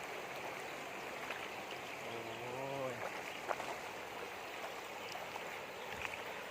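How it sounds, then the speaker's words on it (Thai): Steady, roaring rush of fast-moving floodwater from a broken dam pouring into an elephant camp in Phrom Buri, Sing Buri, Thailand, filling the whole stretch, with a brief voice rising over it partway through. "น้ำไหลแรงมาก"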